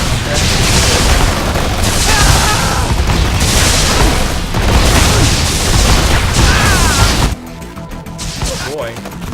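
Loud booming explosions from a turret being destroyed in the strategy video game Forged Battalion, with dense rolling blasts and gunfire filling most of the stretch before dropping to quieter game noise near the end.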